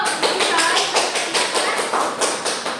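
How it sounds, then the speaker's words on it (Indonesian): Students in a classroom clap together as applause after a lesson discussion, a steady patter of many hands sustained and fairly close throughout. "Beri aplaus dulu."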